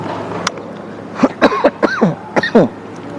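A single click, then a cluster of close coughs and throat-clearing sounds in quick succession from a speaker during an Islamic lecture, with quiet room noise around them.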